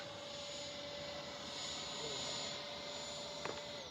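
A Freewing 90mm T-45 Goshawk RC jet climbs out after takeoff, its steady high-pitched electric ducted-fan whine and airy rush sustained throughout, with a brief sharp click near the end.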